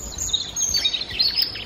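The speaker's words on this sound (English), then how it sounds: "I can hear a woodpecker calling from somewhere over there as well" Woodpecker calling in summer woodland near water, with high chirping calls repeating faintly over a soft, steady outdoor background.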